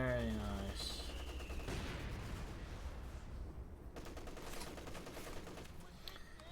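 Mortar and machine gun fire in a Company of Heroes 2 match, with a sharp burst of rapid gunfire and heavy booming shots over a noisy battlefield bed, fairly loud and continuous, and a voice briefly heard at the start.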